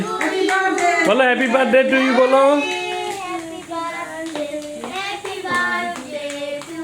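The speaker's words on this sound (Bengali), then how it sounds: "হাততালি হাততালি" Hand clapping at a child's birthday celebration for a younger brother, quick repeated claps under the excited singing and chatter of kids and adults in a busy indoor room.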